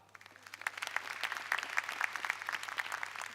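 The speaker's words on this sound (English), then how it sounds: "Let us clap for her." Applause from shareholders at a KenGen annual general meeting, starting softly and swelling into a full, even round of clapping that carries on to the end.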